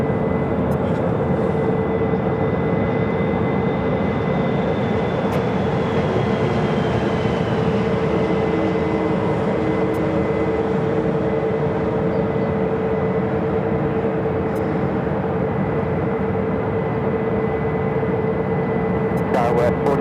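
An old ex-America West American Airlines Airbus A319 jet airliner departs Phoenix airport. A steady, loud jet drone with a sustained whine runs throughout, and radio voices talk over it.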